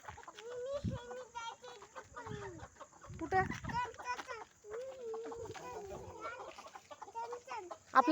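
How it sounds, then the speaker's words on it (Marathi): A big white rooster clucks repeatedly nearby, with short rhythmic calls scattered throughout, while other farm fowl and people talking faintly mix in the outdoor background. "किती मोठा कोंबडा आहे बघ व्हाईटवाला"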